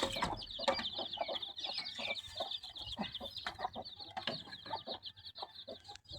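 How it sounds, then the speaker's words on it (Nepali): Several chickens clucking nearby in a rapid, uneven stream of short calls, moderately faint, with no talk. "यहाँ छ कुखुरा चाहिँ"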